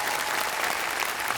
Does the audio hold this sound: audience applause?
yes